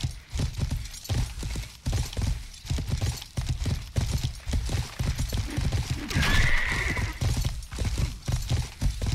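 Game audio from Life is Feudal: Your Own of a horse taking damage in a fight, with repeated clip-clopping hooves and a whinny partway through, over steady background noise.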